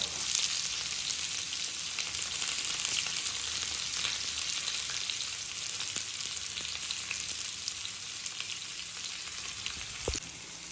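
Green beans, curry leaves and onions fry in a pan with a continuous close hiss and crackle, a few faint stirring clicks, and a sharp knock near the end; no one speaks.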